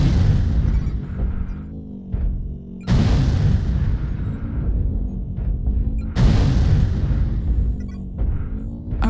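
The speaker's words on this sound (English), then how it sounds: "Artillery strike online. Artillery strike activated." Artillery strike explosions in a video game: two heavy, booming blasts a few seconds apart, each rumbling and slowly fading, with quieter impacts and game noise between them.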